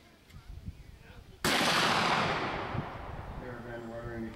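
A single loud, close gunshot at a Schuetzenfest shooting match cracks out sharply and rings off in a long decaying boom, preceded by low background murmur.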